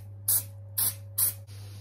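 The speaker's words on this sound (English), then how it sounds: "an antiperspirant spray with cedar wood." Three short bursts from a cedar wood antiperspirant aerosol spray, each a crisp hiss under half a second, evenly spaced, close by over a steady low electrical hum in a quiet room.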